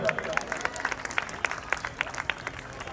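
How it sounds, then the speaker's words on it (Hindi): Spectators at a Ram Leela stage performance give a short round of applause for a welcomed guest, with sharp, fairly regular claps sounding faint and somewhat distant alongside murmuring voices. "इनके लिए भी जोरदार तालियां"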